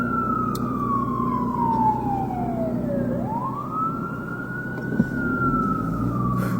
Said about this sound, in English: And we will pause here for the annoying sirens.